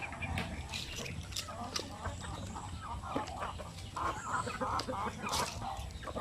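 Large Shamo Aseel chickens, the adult breeding birds, cluck and call in a farm yard, with irregular bird calls over steady background noise and faint distant voices.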